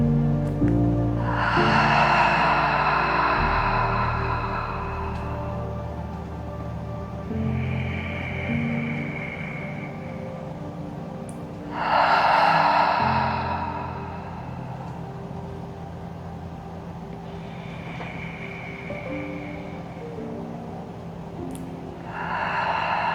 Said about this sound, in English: I'm going to do 3 cleansing breaths, which means I'll be inhaling through the nose, exhaling through the mouth.